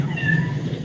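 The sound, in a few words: cat meowing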